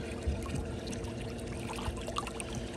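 A Summer Waves sand filter pump drives pool water into steady churning and trickling, a continuous close wash of moving water with small splashes and no talk.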